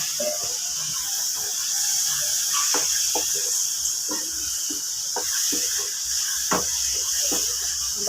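A spoon stirs chili powder, turmeric, asafoetida and jaggery into a pickle, giving scattered soft scrapes and clicks over a steady background hiss.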